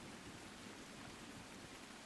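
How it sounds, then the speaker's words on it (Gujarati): Heavy downpour at night in Dahegam during a thunderstorm, with strong wind: a steady, dense, loud wash of rain with no distinct thunderclap standing out. "વરસાદ વરસી રહ્યો છે, કેવો માહોલ?"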